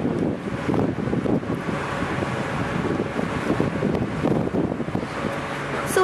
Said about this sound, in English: the gentle waves rocking the ship